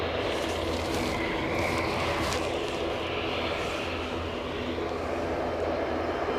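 Aircraft passing at Aberdeen airport, a broad, steady jet roar filling the whole stretch at constant loudness, heard from an outdoor spotting position with no talk.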